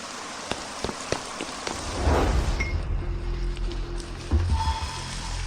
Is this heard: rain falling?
yes